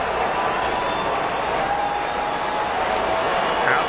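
Baseball stadium crowd on its feet during a night game, a loud, steady roar of cheering and clapping filling the whole stretch with no break.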